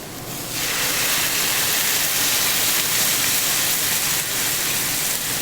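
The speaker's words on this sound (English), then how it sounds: "I'll now add 1½ cup of water." About one and a half cups of water poured into a hot frying pan of saag paneer spices rushes in with a loud, steady hiss and splash that holds evenly for several seconds after a brief quieter start.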